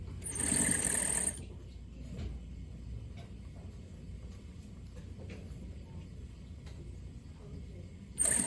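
A sewing machine stitches a bias cuff onto a gathered sleeve in a short, loud whirring run at the start, then falls to quiet handling noise before briefly starting up again at the very end.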